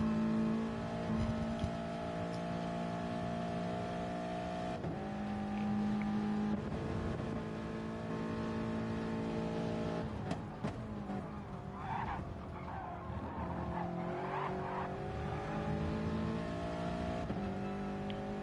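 Race cars in the Gran Turismo Sport video game at Lago Maggiore, engines droning continuously at high revs with shifting pitch and bursts of tire skidding, loud and steady throughout with no talk.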